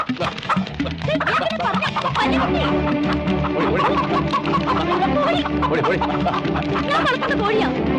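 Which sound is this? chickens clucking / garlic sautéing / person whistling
chickens clucking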